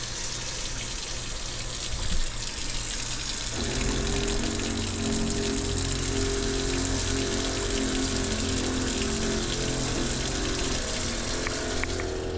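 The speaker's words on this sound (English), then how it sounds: "the pump comes on and it never catches up with the water demand" Water runs from an opened tap aboard a boat, and a few seconds in the freshwater pump kicks on with a steady mechanical hum that keeps droning under the flowing water, close by and continuous.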